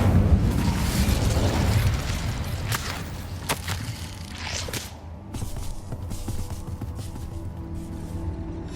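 Incendio fire spell cast in Hogwarts Legacy, a loud roaring whoosh of flame at the start that fades into crackling bursts and scattered pops over background game ambience.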